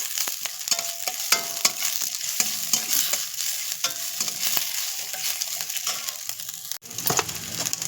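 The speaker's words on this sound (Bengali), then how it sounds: "পেঁয়াজটাকে আমি একটু লাল লাল করে ভাজবো।" Onions frying with ginger garlic paste in a wok, a steady close sizzle broken by frequent scraping stirs of the spatula, with no voices.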